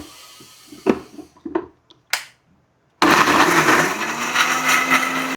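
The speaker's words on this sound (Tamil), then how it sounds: "இது தேங்காய் கொஞ்சம் அரைச்சிக்கிறோம்." A kitchen blender grinding coconut for a home-style fish curry starts abruptly partway through, a loud steady whir after a few scattered taps and clicks, running continuously to the end.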